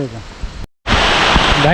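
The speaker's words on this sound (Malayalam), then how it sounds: "നല്ല മഴയാണ് നല്ല മഴ നല്ല മഴയാണ് കൊടൂര മഴയാണ് ഫുള്ള് മഴയാണ്" Loud, dense roar of heavy rain pouring down close by, with a voice speaking over it and a brief dropout in the middle.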